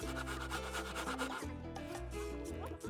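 Hand saw cuts through a wooden floor panel in steady back-and-forth strokes, a rasping rhythm of about two strokes per second, close and fairly loud, with no talking.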